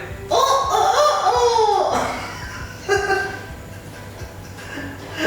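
A chicken clucks and squawks loudly up close, a burst of calls followed by quieter clucks against a steady low hum.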